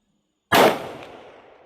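A single loud, sharp rifle shot during target shooting at a 300-yard range, hitting abruptly after silence and trailing off in a long fading echo.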